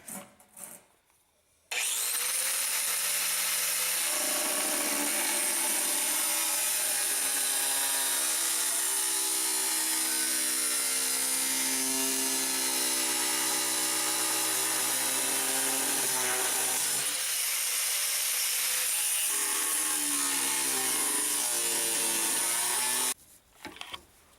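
Cutting wheel slicing along the edge of a fiberglass panel for a John Deere hood light conversion, a loud continuous grinding whine that holds steady for about twenty seconds between brief quiet moments at start and end.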